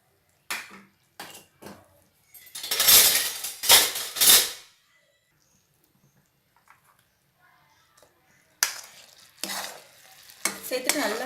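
Tirunelveli samba wheat halwa with caramel is stirred in a pan, giving bursts of thick, sticky scraping and sizzling that come and go with a long quiet gap in the middle.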